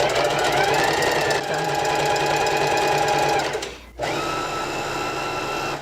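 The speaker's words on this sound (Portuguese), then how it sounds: "Vou costurar só um pedacinho" A sewing machine stitching a small piece of fabric runs in a fast, steady mechanical whir close by. It pauses briefly near the end, then starts again.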